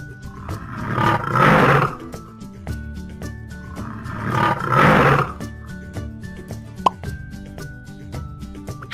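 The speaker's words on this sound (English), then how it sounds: "Lion." A lion roaring in two deep, rasping bursts a few seconds apart, loud and close, with light clicks and knocks between them.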